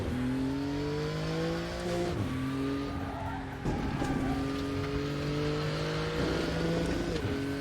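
A GT3 race car in the RaceRoom racing game drives on with its engine revving, the pitch climbing and dropping through gear changes at steady loud volume, with brief tire noise.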